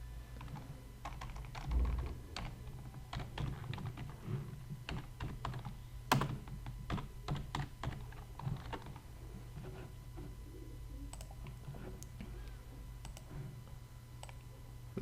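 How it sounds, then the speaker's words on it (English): Fairly quiet, close computer keyboard typing with irregular bursts of clicks and pauses while entering a name into a Photoshop flyer design, with no talking. "let's type the name here"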